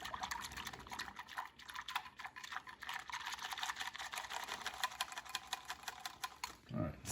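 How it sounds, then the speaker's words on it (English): Cornstarch being whisked into milk for homemade ice cream, with a steady, rapid clicking and scraping rhythm of the whisk against the bowl running throughout, fairly close and continuous. "Whisk together."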